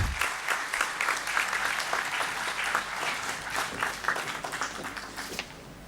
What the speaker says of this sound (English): Ladies and gentlemen, please give him a round of applause.